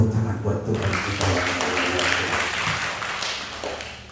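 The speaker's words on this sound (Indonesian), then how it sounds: "Tepuk tangan buat Tuhan kita." Church congregation applauding at a combined Easter service, a loud wash of clapping that swells and holds for several seconds, with voices and music underneath.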